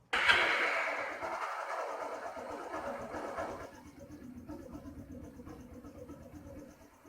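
A Honda Wave 125i motorcycle engine runs at a steady low idle after an air filter replacement, starting with a louder rush that settles into a soft, even rumble, with no talking.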